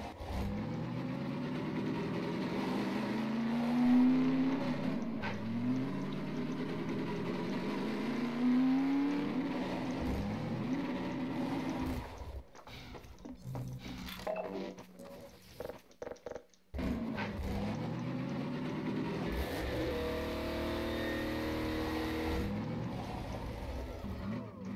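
Car engine driving in the Half-Life 2: Episode Two video game, a steady droning motor with rising revs that cuts out and stutters midway before resuming, under light talk.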